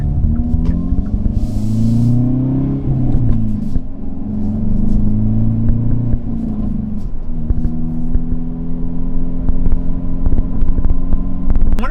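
A Hyundai Veloster N is driven on a road coming off a hill. Its engine gives a steady, loud drone with gentle rises and falls in pitch as the throttle changes, and no talking is heard.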